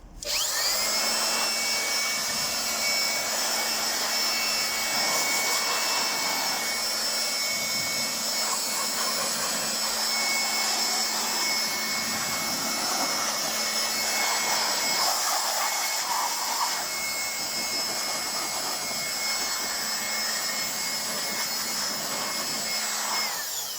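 Compressed air blasts dust out of a long-neglected server, a loud, sustained hissing roar with a steady tonal whine, holding constant for over twenty seconds without speech.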